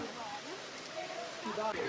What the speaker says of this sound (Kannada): ಅಷ್ಟು ಮಳೆ